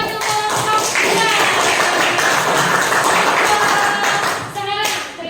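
A class in an Indonesian primary school claps for group 2 after their discussion, with continuous lively clapping and a few voices rising over it.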